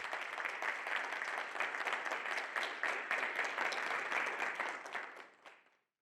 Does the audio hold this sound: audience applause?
yes